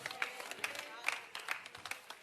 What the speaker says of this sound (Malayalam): നമുക്ക് കൈയടിച്ച് കർത്താവിനെ സ്തുതിച്ച്